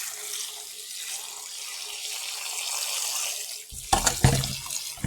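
Tap water runs steadily into a kitchen sink while cow foot is washed with vinegar, a continuous close rush that turns into louder, choppier splashing near the end as the pieces are handled.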